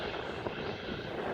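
Airplane engine roaring during plane spotting at an airfield, a loud, steady broadband rumble that fills the whole stretch with no talk.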